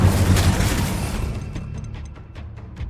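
A fiery spell bursts with a deep booming whoosh in the video game Hogwarts Legacy, loud at first and then fading into crackling pops and scattered bursts.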